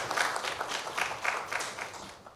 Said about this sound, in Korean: 큰 박수 좀 부탁드리겠습니다